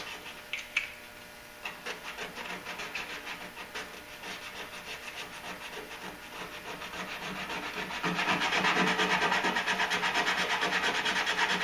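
Hand sanding of a plastic bumper repair with 80 grit sandpaper, rhythmic back-and-forth scratchy rubbing strokes, close and continuous, growing louder and faster toward the end.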